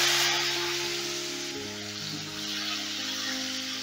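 Two chopped medium tomatoes fry in hot oil in a pan, a loud, close, continuous sizzle that settles gradually, with a steady hum running underneath.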